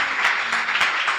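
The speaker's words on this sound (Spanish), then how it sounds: "le vamos a dar un fuerte aplauso, iglesia" A church congregation claps in a brief burst of steady applause, dense and fairly close throughout.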